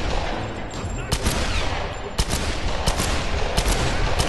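Gunfire in the Tomb Raider video game, a dense loud barrage of rapid shots and sharp cracks over continuous noise, with no talk heard.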